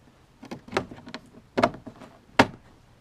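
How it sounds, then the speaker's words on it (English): A door panel on a 2012 Ram 1500 pickup is pressed onto the truck door, giving several sharp plastic clicks and snaps in an uneven sequence, close up with no talk. "So it all clips in just like the front."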